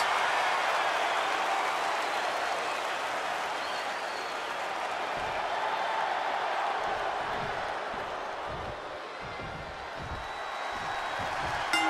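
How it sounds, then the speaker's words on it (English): Steady roar of a packed arena crowd cheering and applauding in the WWE 2K22 wrestling game on PS5, a Universal Championship match between Roman Reigns and Cesaro, loud and continuous throughout with occasional low thumps beneath the noise. "This capacity crowd is waiting with bated breath."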